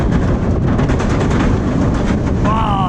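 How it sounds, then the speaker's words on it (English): Dragon Khan roller coaster train climbing the lift hill at PortAventura, a steady loud rumbling clatter throughout, with a rising whine near the end. "climbing the lift on Dragon Khan"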